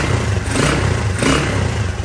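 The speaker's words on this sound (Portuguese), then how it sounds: "Vou funcionar a moto. Moto funcionando" A Honda Titan 150 motorcycle engine runs steadily at close range, a continuous loud rumble with a faint mechanical clatter and no speech.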